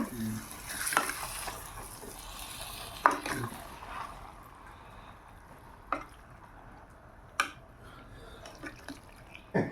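Prawn curry ingredients stirred in a pan, a steady soft sizzle and scraping running throughout with several sharp clacks of the spoon against the pan, close and alone.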